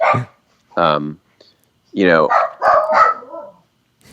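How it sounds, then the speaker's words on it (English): Dogs bark indoors during a conversation: two loud, close bursts of barking with short gaps between them, then a person speaks while a bark or two overlaps the talk. "Sorry, my dogs are freaking out."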